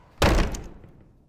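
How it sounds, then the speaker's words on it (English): A door slams shut once, a heavy thump that fades away over about a second in a quiet room with no voices. "Twilight rushed out of the door and slammed it shut behind her"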